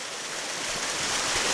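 A tall multi-section waterfall rushes in a constant broadband roar, heard from a viewpoint with no other sounds over it.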